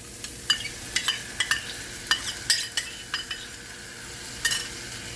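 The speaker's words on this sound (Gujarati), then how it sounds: "તેને બરાબર દહીં નાખીને આપણે હલાવવાનું છે" A spoon stirs curry gravy in a pan after yogurt has gone in, scraping in quick irregular strokes over a soft, steady sizzle, close and fairly quiet with no talking.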